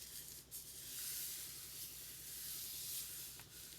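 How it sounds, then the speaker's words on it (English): A hand rubs paper down onto a gelli printing plate, making a soft, continuous hissing swish that swells and eases slightly, close and quiet. "Nice little rub down."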